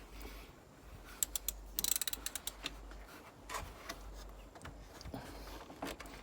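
Ratchet tightening coolant line banjo bolts on a Mini Cooper S R56 engine, a quick burst of sharp clicks followed by scattered lighter clicks and taps, fairly faint against a low background hum.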